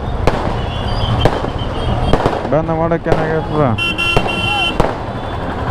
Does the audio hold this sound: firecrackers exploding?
yes